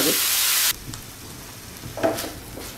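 Chicken for a pizza topping fries in a pan, opening with a loud, dense sizzle that cuts off sharply and leaves quieter crackles and a brief stirring flare.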